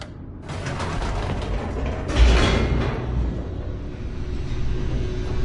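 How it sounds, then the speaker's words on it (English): An elevator in The Stanley Parable makes a mechanical descent: a creaking, grinding rumble of gears and pulleys begins, swells with a heavier clunk, then settles into a sustained low hum. "The elevator raced downward, plummeting towards an unknown fate."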